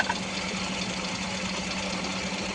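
A Suzuki Alto engine idles steadily at close range with a clutch noise fault, a constant mechanical hum with faint ticking knock running throughout, no voices.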